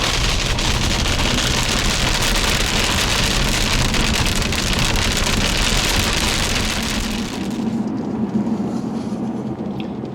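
Loud, dense rain pounds down in Jackson Hole as a roaring wash, then abruptly eases near the end to a much softer patter.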